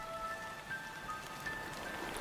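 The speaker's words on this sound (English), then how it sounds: "That call comes with the first of the monsoon rains." First monsoon rain falls steadily on forest and cliff tops, a soft continuous patter of drops with faint bird calls threading through, quiet and even throughout.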